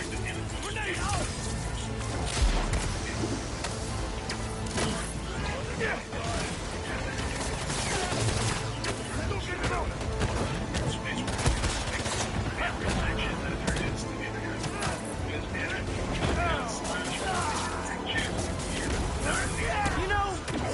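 Video game gunfire and grenade blasts from Spider-Man 2 on PS5, a dense, continuous barrage of shots and bursts filling the scene with action noise and voices speaking throughout.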